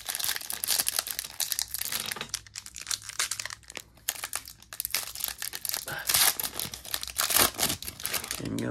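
Hockey card pack wrappers being torn and crinkled open, close crackling plastic in irregular bursts with brief quiet gaps, a faint voice and distant television in the background.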